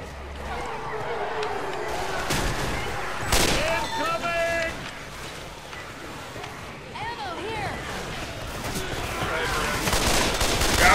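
SCAR rifle gunfire in Left 4 Dead 2, with rapid bursts of shots rising over the game's ambient noise and effects.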